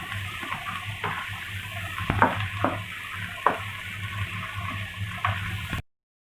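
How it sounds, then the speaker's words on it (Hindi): Beef or goat liver (kaleji) frying in masala in a pan on a stove, a steady soft sizzle with occasional sharp stirring scrapes and clinks, close and without talk. "अब हम इसमें कलेजी डालेंगे और कलेजी को हम अच्छी तरह भूनेंगे"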